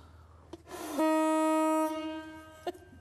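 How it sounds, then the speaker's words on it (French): A loud, steady blast from a mouth-blown fog horn lasting about a second, harmonically rich and brassy, preceded and followed by soft breathy puffs and a brief click. "vous avez ce qu'on appelle la corne de brume à bouche. Je vais vous faire une petite démonstration."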